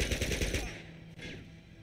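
Rapid automatic gunfire in the video game Uncharted 2, a loud burst of repeated shots for under a second, then a fading echoing tail.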